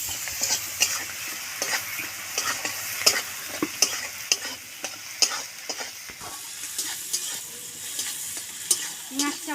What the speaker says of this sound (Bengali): এবার ভালো করে পেঁয়াজটা ভাজবো